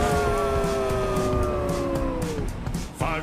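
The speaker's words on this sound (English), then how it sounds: "Fire truck time, gotta make your siren sound." A cartoon fire truck siren wails in layered tones that slide gradually downward, loud and continuous, then breaks off near the end.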